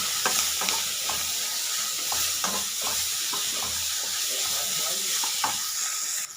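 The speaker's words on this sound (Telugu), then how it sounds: "కొద్దిగా పల్లీలు వేసుకుందాము. కొద్దిగా, చాలా వద్దు. వేసుకొని బాగా కలుపుకోవాలండి." Peanuts being stirred into a frying chutney mixture in a pan, with steady sizzling and frying hiss throughout and repeated scraping stir strokes, close and continuous with no talking.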